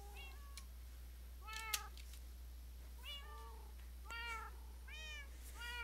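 Several video game cats meow one after another, about five distinct, clear meows spaced out over a quiet background hum.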